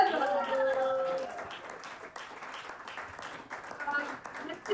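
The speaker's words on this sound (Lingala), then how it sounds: "des acclamations comme de jeunes, des cris de joie comme de jeunes" A church audience at a talk about choosing a spouse claps and cheers in a scattered, lively burst that fades to lighter clapping, with voices mixed in.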